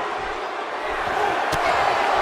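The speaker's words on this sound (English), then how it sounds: "listen to this crowd" Arena crowd noise from a WWE 2K18 Royal Rumble match, a steady dense roar of cheering that holds loud throughout, with a brief sharp impact near the middle.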